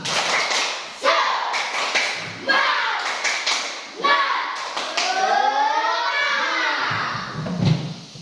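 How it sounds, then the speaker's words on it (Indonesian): A classroom group stands and performs a rhythmic Indonesian spirit clap, with sharp bursts of clapping and thumps alternating with loud chanted, sing-song voices that swell in the middle and fade toward the end. "Kita semua berdiri, kita tepuk semangat lagi ya"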